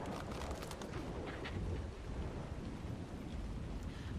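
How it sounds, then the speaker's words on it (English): Thunderstorm in the video game Ark Survival Ascended, a continuous roar of heavy rain and rumbling thunder with gusty wind, loud and steady throughout with no speech. "And the storm out there, lovely."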